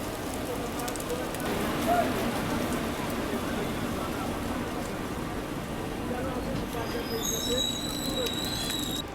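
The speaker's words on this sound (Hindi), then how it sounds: "बिल्कुल ऐसे बारिश की उम्मीद तो थी पर ये कुछ ज़्यादा ही हो रही है" Heavy rain pours steadily over a moving Barmer–Yesvantpur AC Express train, a dense continuous hiss filling the whole stretch, with a few thin high tones near the end.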